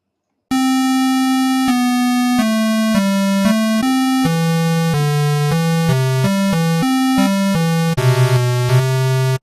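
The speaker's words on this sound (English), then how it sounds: "Now I'm going to go and I'm going to click square wave." A synthesized square wave tone plays a quick melody of stepped notes, buzzy and harmonically rich, each pitch held briefly before jumping to the next, loud and continuous throughout.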